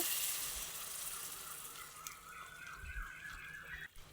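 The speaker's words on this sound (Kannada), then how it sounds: "ಬಿಸಿ ಮಾಡ್ಕೊಂಡಿದ್ವಲ್ಲ ಆ ನೀರನ್ನ ಸೇರಿಸ್ಕೋಬೇಕಾಗುತ್ತೆ ಈ ಟೈಮಲ್ಲಿ" Hot water is poured into fried semolina for kesari bath, a steady watery pour with faint sizzling that fades toward the end, with no talking.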